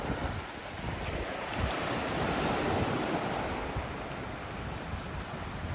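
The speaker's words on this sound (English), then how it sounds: "That's the Atlantic Ocean." Atlantic Ocean surf rolling onto an eroding shoreline, a steady broadband wash of waves with wind buffeting the microphone, continuous and fairly loud throughout with no voices.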